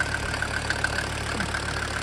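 A SsangYong OM662 2.9 turbo diesel engine idling, with a steady, even low rumble and a regular ticking clatter, heard up close and alone.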